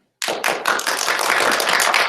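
An audience at a parliamentary candidates' policy debate breaks into applause after a short silence: a dense, loud burst of clapping that starts with a few sharp claps and fills in quickly.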